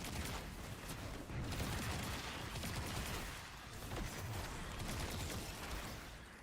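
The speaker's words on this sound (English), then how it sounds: "Stop shooting me, please." Dense, continuous video-game gunfire from a raid shooter, a steady rattle of overlapping shots and impacts with no clear pauses, loud and busy throughout with only brief dips in intensity.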